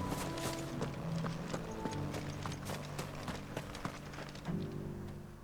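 Horse hooves clip-clop in a steady walking rhythm across a hard surface in Final Fantasy XVI. Each close, crisp knock rings out over quiet tonal background music.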